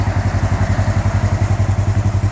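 Engine of a 2016 Polaris RZR XP 1000 UTV fitted with a Yoshimura exhaust, idling with a steady, loud, throbbing low pulse and slight clatter, close by with no talk.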